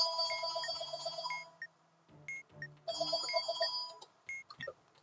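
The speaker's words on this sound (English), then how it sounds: "Apologies if you can hear the phone in the background." A telephone rings somewhere in the background, two bursts of trilling rings separated by a short pause, quiet and clear with no one speaking.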